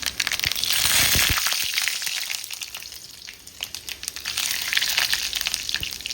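Mustard seeds and fenugreek crackle and sizzle in hot groundnut oil as a tempering for mor kuzhambu, a steady, loud, close frying hiss full of rapid pops with no talking.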